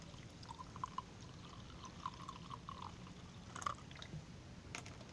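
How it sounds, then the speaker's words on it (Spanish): Water is poured into a mixture of baking soda and lemon, a quiet, brief trickle with a few soft drips and splashes and no talking. "Ya lo tenemos así, vamos a agregarle agua."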